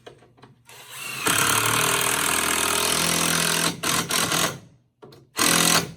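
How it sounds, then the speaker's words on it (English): A power drill drives a screw into wood while an Adirondack chair is assembled from a kit: a loud, steady whirring burst of about two and a half seconds, followed by shorter bursts and a final brief run. "Now, while I'm putting this screw in,"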